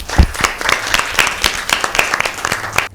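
A quiz show audience applauds a correct answer, a burst of close, lively clapping from a small crowd that runs steadily for about three seconds before cutting off.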